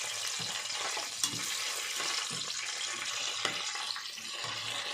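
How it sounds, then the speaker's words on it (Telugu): Whole cloves, cardamom pods and cinnamon sizzle steadily in hot oil in a pan for bagara rice, with close, broadband frying hiss throughout and a few soft scraping stirs and clinks punctuating it. "లవంగాయలు, యాలక్కాయలు, దాల్చిన చెక్క వేసుకోవాలి. వేసుకొని ఒకసారి తిప్పుకోవాలి."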